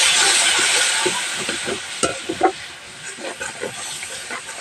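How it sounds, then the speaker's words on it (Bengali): Biryani spice paste fries in a pan with a little water added, giving a loud steady sizzle and hiss that eases slowly, broken by a few stirring scrapes. "এবার সামান্য একটু জল দিয়ে মশলাটা ভুনা করে নেব।"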